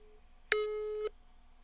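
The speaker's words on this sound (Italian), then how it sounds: "vado a chiamare Official Deluxe" A single short telephone busy tone sounds once, a steady half-second electronic beep that is clear but not loud, over quiet background.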